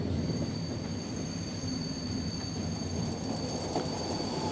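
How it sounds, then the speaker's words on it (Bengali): Train pulling into a station as a sound effect: a steady, loud rumble of rolling wagons with thin, sustained wheel squeal above it, alone with no voices. "সামনের লাইনে গণ্ডগোল থাকায় ট্রেনটা কিছুক্ষণের জন্য এই স্টেশনে দাঁড়িয়ে গেল।"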